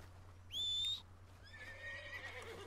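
A horse in Red Dead Redemption 2 gives one loud, clear whinny, followed by a softer, fainter nicker over a steady low game hum.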